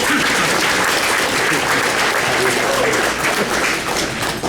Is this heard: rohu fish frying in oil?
no